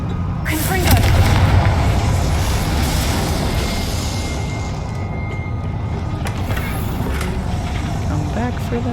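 A Confringo fire blast spell detonates in Hogwarts Legacy, a loud booming explosion with a sharp onset near the one-second mark, then a sustained rumbling roar of game effects and music with crackling bursts throughout.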